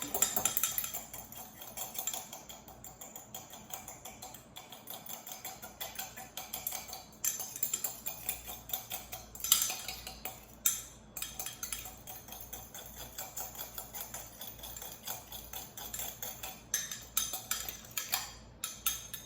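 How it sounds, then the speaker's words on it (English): A metal whisk beats balsamic glaze in a bowl, giving a steady run of quick, light metallic clinks and scrapes with no talking. "Whisk this up."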